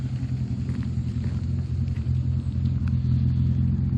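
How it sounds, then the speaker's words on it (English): A classic Austin Healey car driving past at a classic car club treasure hunt, giving off a steady, fairly loud low engine rumble with slight swells, and no voices. "And then more Austin Healey action."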